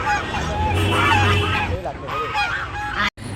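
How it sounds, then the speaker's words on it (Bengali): White geese honk loudly and repeatedly at close range, a frightened flock calling in overlapping bursts with no clear speech. "হাঁসগুলি তো ভয় পাচ্ছিলো প্যাক প্যাক প্যাক প্যাক করছিলো"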